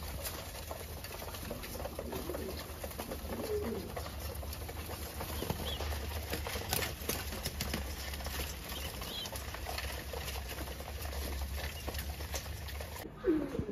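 Pigeons at a farmhouse, faint scattered wing flaps and light pattering movements over a low steady background hum, fairly distant and quiet.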